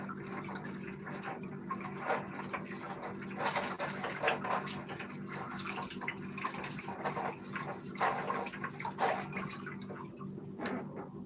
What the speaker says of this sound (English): I'm soap and water washing it just in case.